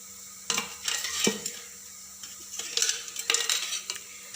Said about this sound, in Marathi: आता दुसऱ्या साईडला भाजून घेऊया